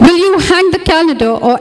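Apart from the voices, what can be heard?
None of the usual background noises is heard.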